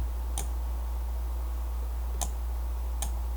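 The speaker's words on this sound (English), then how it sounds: "then middle click the mouse button, and it starts salvaging" A computer mouse's middle button clicks three times, sharp faint ticks spaced unevenly over a steady low hum, with no talking.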